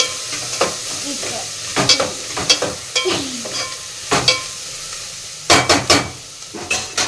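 Chicken fries in a pan, with a constant sizzle under repeated loud scraping and clinking stirring strokes of a utensil against the pan, close and without talk.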